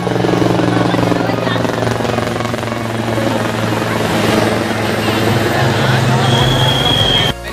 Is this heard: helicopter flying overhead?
yes